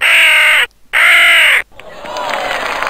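A black raven in a Moomin video game gives two loud, drawn-out caws with a brief gap, followed by a softer washing background noise.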